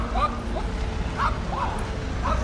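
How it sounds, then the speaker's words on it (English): A puppy yips and barks a few times at a distance near an Irish Army barracks, faint over steady background noise and voices. "Oh, a puppy over there."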